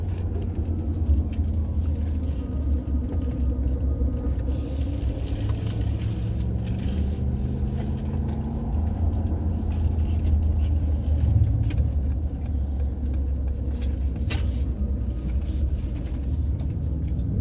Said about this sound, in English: Now we've got bikes coming towards us. You can always tell a Harley by the noise.